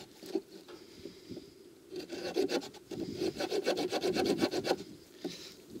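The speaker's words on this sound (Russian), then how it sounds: "Протестируем пилу." The small saw blade of a GAK-108 multitool knife rasps back and forth through wood in quick, steady strokes, close up, building to a fast sawing rhythm before stopping.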